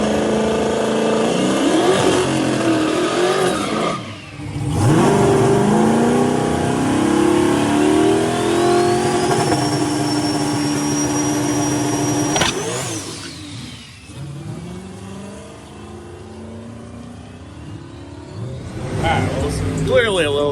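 A drag racing car called Moonshine runs a test pass: its engine roars loudly and climbs in pitch through a long acceleration, then cuts off and fades to a lower rumble before revving again, with crowd and talking mixed in.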